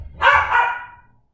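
A couple of dogs bark in a short burst of two or three close, loud yaps, then fall quiet, with no talk over them.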